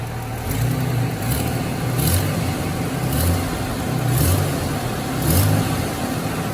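A rebuilt 4.0L engine in a 1999 Jeep Cherokee revs up and settles back repeatedly, about five throttle blips in a steady rhythm over a constant idle, close and loud.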